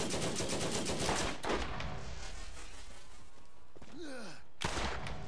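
Rapid bursts of gunfire crackle in quick succession in the video game Borderlands, then stop, leaving a quieter stretch with a brief whistling sweep before another burst begins.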